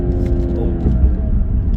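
A BMW with a B58 engine running a JB4 tune pulls hard after a downshift, its deep exhaust drone steady and close throughout with a slight swell near the end.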